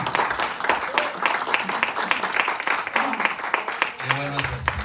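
A church congregation claps during a sermon, a dense, steady patter of hands close by, with a few voices coming through near the end.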